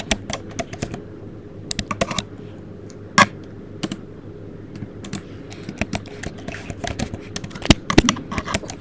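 Java code is typed on a computer keyboard in uneven bursts of sharp, close key clicks separated by brief pauses, with a faint background hum and no talking.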